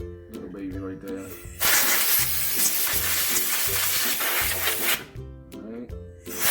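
WD-40 lubricant sprayed from an aerosol can onto an Arrma Kraton 6S RC car gives one continuous, loud hiss lasting a few seconds, with someone talking before and after it.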